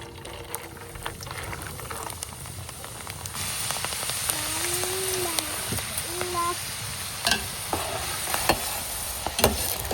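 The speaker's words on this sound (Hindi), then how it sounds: "तो अभी जी फैन में हम डालेंगे घी। तो माशाल्लाह जी अल्हम्दुलिल्लाह, हमारा घी गर्म हो चुका है। अभी जी हम डालेंगे दाल।" Chana dal hits hot ghee in a pan and fries with a steady, crackling sizzle, broken by stirring scrapes and a couple of brief tonal squeaks. A faint voice murmurs in the background.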